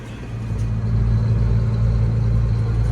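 A tractor drives slowly over a rough field, its engine a steady, loud low rumble with a droning hum and faint rattles, with no voices.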